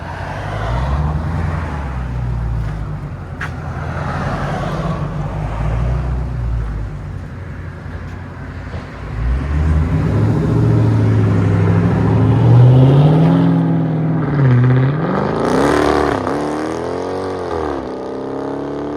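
A 2023 Dodge Charger Scat Pack with a 6.4L HEMI V8 and AWE exhaust pulls away, its deep exhaust rumble swelling as it drives off, loud and close, then rising in pitch with revs near the end.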